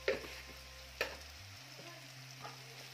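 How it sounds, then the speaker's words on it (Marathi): Chopped onion with salt frying in a pan, a quiet, steady sizzle with a few soft clinks of a spatula against the pan and a low hum underneath. "कांद्यामध्ये थोडं मीठ घालायचं, त्यामुळे कांदा पटकन भाजला जातो"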